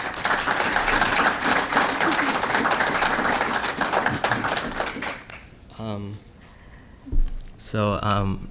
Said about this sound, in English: So I'd like everybody to give him a big round of applause